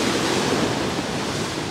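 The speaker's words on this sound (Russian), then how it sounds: "Накат и волны." Storm surf on a pebble shore at Alushta, Crimea, waves rolling and dragging stones back and forth in a continuous loud roar of wash and hiss, with no voices.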